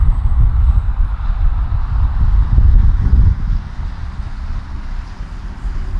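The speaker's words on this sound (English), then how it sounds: "That wind, boy, that's crazy today." Strong wind buffets the microphone in a continuous low rumble, gusting louder before easing slightly, with no voices.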